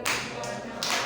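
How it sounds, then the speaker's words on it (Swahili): During a church service a congregation claps in a short burst of a few sharp, close hand claps that overlap and ring slightly in the room. "Makofi."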